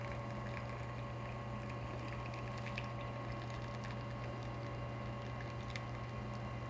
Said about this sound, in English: I'm just gonna flush out some more water there.